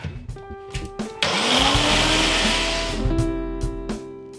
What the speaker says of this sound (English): And then onto the liquidizer, and we'll see how we get on.